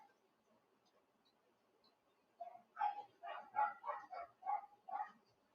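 Dogs in Cavite, Philippines break into a run of repeated barks, about seven in quick succession, loud and close after a quiet start.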